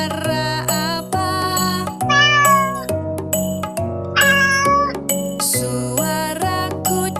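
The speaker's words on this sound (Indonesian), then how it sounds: "Suara kucing." A cat meows repeatedly in a steady, rhythmic pattern over a bright, cheerful children's song with bells, the meows loud and upfront and blended with the music.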